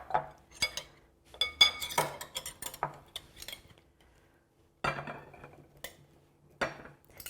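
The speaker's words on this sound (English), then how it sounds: "Now we'll transfer it to our serving bowl." Greek salad tipped into a serving bowl with clinks of utensils against dishware, a few scattered bursts of scraping and tapping separated by a short quiet pause, close by with no talking.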